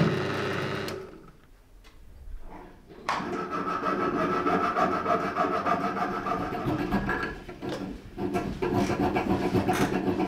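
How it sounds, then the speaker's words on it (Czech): A fretsaw cuts a hole for the tang in a piece for a katana, with steady, fast rasping strokes heard up close and one brief pause early on. "vyvrtám a pomocí lupénkové pilky vyříznu otvor pro trn"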